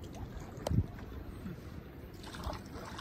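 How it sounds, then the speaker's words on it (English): A canoe paddled slowly across water off the Coromandel coast of New Zealand on an overcast day; soft splashes and one louder stroke sound close by over steady wind noise. "he's paddling a bit slow"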